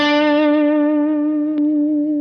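An electric guitar plays through the Kemper Profiling Amp's spring reverb with the dripstone parameter maxed: one sustained, strongly harmonic note rings loud and slowly decays, with a brief click partway through and no talking.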